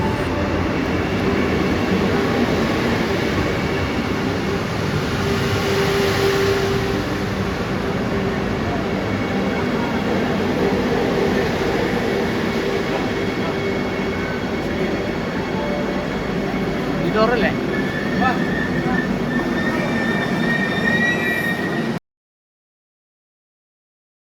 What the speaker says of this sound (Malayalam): കാത്തിരുന്ന ട്രെയിൻ കൃത്യസമയത്ത് തന്നെ വന്നു